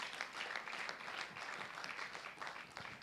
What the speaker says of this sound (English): Can we give a big applause to this team of people?